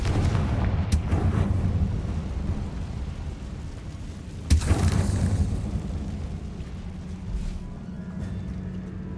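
Fire spell explosions in Hogwarts Legacy, heavy booming blasts with two sharp loud bursts standing out over a rumbling low-end roar of battle, no voices.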